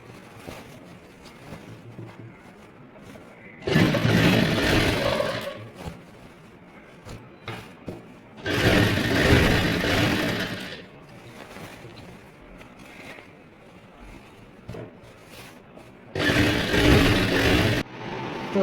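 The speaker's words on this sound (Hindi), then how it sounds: "फिर यहाँ हम धार स्टिच लगाएंगे।" A sewing machine stitching down a folded hem margin, running in three separate loud bursts of a few seconds each with quiet pauses between them.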